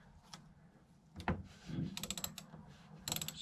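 A ratchet fitted with a 1/2 inch socket loosens the battery bolt on an MGA 1600 with twin 6 volt batteries, producing close bursts of rapid metallic clicking after a couple of knocks.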